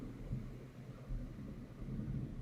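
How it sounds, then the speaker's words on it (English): Low rumbling thunder in the background of a game session, a faint, continuous deep roll with slight swells, with no voices present. "With thunder in the background"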